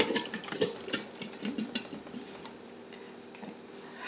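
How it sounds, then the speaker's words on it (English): Home-canned potatoes tipped into a preheating cooking pot: a quiet scatter of irregular light knocks and clatters, denser at first and then thinning out, with no talking. "putting the potatoes in my pot"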